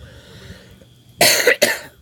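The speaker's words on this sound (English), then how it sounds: "See here, I still got that cough" After a quiet moment, two sharp coughs burst out in quick succession, loud and close.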